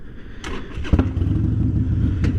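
A motorcycle fitted with new LED headlights and front blinkers pulls away at night, its engine rumbling up steadily from near to a fuller, sustained roar.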